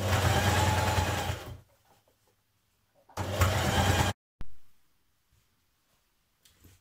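A sewing machine top-stitching along skirt pockets, running in two loud bursts of rapid whirring needle motor separated by quiet pauses, with a brief third start before stopping.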